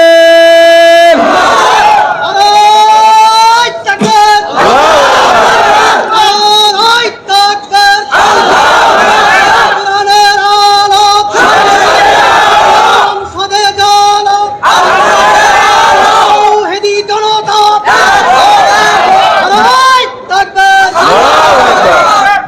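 A large political rally crowd chants the takbir in unison, a loud, sustained roar of many voices rising in repeated waves of call and response.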